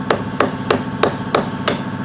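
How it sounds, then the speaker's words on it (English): A plastic hammer taps a KTM 300XC motorcycle foot peg six times in an even rhythm, each sharp knock close and loud with nothing else heard. "And we got a plastic hammer,"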